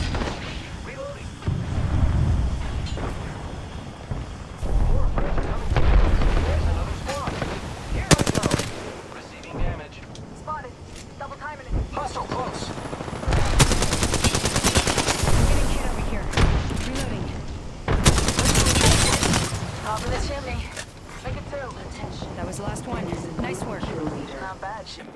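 Bursts of automatic gunfire and heavy blasts from an attacking squad in an Apex Legends match on Kings Canyon, loud rapid volleys alternating with quieter gaps, with voices talking over the action.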